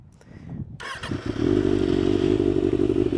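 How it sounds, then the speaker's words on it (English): A 300cc motorcycle with an SC Project slip-on exhaust cold starts: a few clicks and a thump, then the engine catches and settles into a loud, even, throbbing idle close by. "And we'll do a cold start and we'll talk about it a little bit more."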